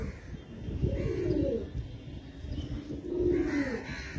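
Pigeons coo in low, repeated bursts, fairly close; the birds are red-marked Kalsera old-line stock kept for sale, with several soft calls overlapping across a few seconds.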